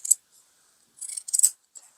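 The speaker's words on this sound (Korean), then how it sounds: "얘를 이렇게 잘라 버릴 겁니다. 이렇게 자르고" Scissors snip through coat fabric while cutting a raglan-sleeve coat: one short crisp cut, a pause, then a quick cluster of close, dry snips and a faint final one, with no talking.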